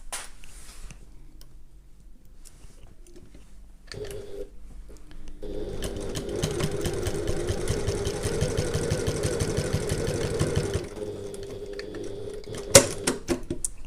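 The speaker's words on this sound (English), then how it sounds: "sew through this" A sewing machine stitches through a handbag's seam, its close, rapid mechanical chatter running steadily for about five seconds after some quiet handling noises.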